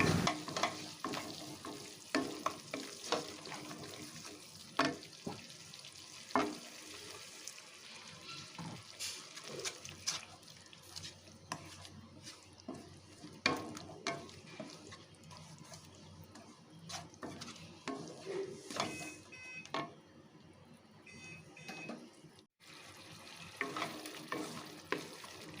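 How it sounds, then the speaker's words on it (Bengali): Spice masala for an eggplant curry stir-fried in hot oil, a steady close sizzle broken by repeated scraping strokes of a spoon across the pan, continuing alone for the whole stretch. "মশলাটাকে ভালো করে কষিয়ে নিয়েছি। এখন মশলা থেকে তেল বেরোনো শুরু হয়ে গেছে।"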